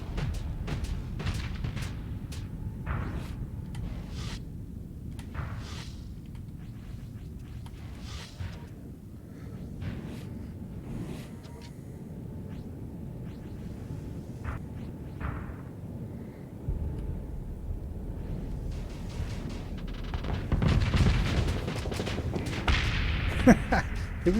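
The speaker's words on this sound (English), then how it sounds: "we're going to just start launching lots and lots of missiles at him" Missiles fire at an enemy ship in the space combat game Starsector, a dense run of booms and thuds building to a louder barrage near the end, steady and heavy throughout.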